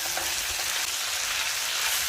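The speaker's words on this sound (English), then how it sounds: "After the carrots already almost cooked, you can put the capsicum in, okay, all together, and stir it well." Steady, close sizzling of carrots and capsicum stir-frying together in a hot pan for a spicy chicken and sweet basil dish, a dense continuous hiss with faint scraping from stirring.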